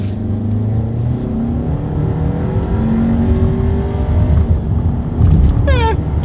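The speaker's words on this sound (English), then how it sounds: "let's see how quickly we can get the new 2020 Volkswagen Atlas Cross Sport here up to speed" A 2020 Volkswagen Atlas Cross Sport accelerates hard from a stop at a red light, its engine drone rising steadily from inside the cabin, with a gear-change note climbing near the end.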